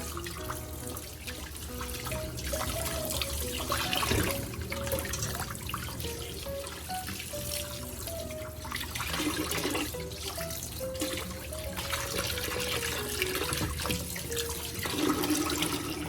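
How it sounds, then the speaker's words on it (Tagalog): Beef shanks with bone marrow rinsed under a running kitchen tap, a continuous splashing stream of water with shifting gurgles and trickles as the meat is turned, no talking. "Hugasan pa natin na isang beses para mawala ang dugo na nakakapit sa karne."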